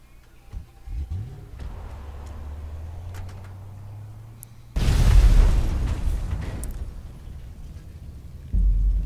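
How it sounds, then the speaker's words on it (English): Explosions in the Grand Theft Auto Online Humane Labs heist ring out as a sudden loud blast about halfway through. A long rumbling roar follows, then a second burst near the end, over a low engine drone. "Don't look at explosions."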